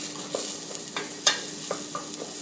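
Onions fry in a pot over a high flame with a steady soft sizzle, punctuated by a few light scrapes and taps of a spoon, close by with no talking.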